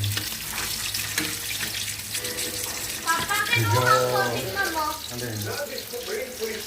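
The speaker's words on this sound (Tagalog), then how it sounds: "Medyo i-toastin natin para masarap." Food toasting in a pan gives a soft sizzle and crackle, with a person talking over it in the middle and at the end; close and moderate in level.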